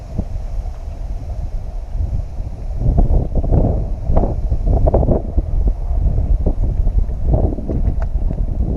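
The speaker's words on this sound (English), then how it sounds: "It is super windy today" Strong, gusty wind buffets the microphone at a lakeside quarry, a steady low roar swelling in bursts with no talk.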